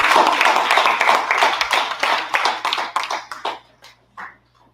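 An audience at a business event applauds, starting as dense clapping and thinning into scattered individual claps that trail off into a few last isolated hand claps over a faint steady hum.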